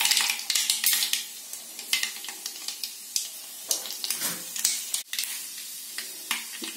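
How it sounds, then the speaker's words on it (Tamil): Mustard seeds and urad dal crackle and sizzle in hot oil for a South Indian vegetable kootu tempering, a steady close frying hiss with sharp pops and spatters and no talk. "இப்போ கடுகு உளுந்தம் பருப்பு போடுறோம்."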